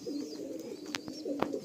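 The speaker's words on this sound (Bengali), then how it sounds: "কারণ এত রেয়ার কোয়ালিটির কালো পায়রা দেখা যায় না।" A black pigeon coos softly in two short, low bursts, close by and fairly faint, with slight rustling between calls.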